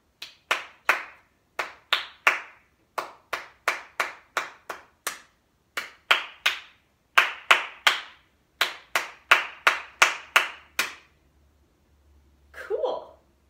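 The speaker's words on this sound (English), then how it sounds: "then we'll clap" Students in a music lesson clap a rhythm together, crisp separate claps in grouped patterns with short pauses between phrases, fairly close and clear, ending with a brief soft sound after the last claps.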